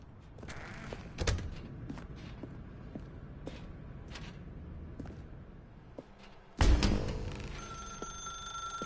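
A telephone rings inside the video game The Stanley Parable, played on PS5, starting with faint, repeated clicks and rings before a louder, sustained ringing bursts in near the end.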